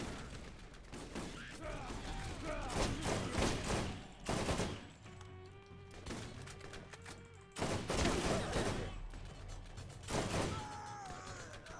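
Bursts of assault rifle fire from the Borderlands video game, loud and close in repeated volleys, with heavy sustained automatic strings separated by brief pauses and some voices and music in between.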